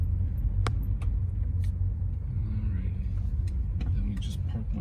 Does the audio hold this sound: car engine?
yes